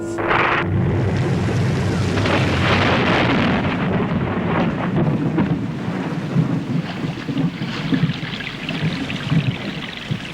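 Heavy rain and thunder in Paraguay: a loud, continuous roar of pouring rain with deep rolling rumbles underneath, dense and close, steady for the whole stretch with no one speaking.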